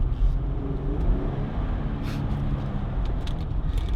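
A Jeep Grand Cherokee SRT engine drones steadily while driving, a thick low rumble mixed with road and wind noise, heard from inside the vehicle.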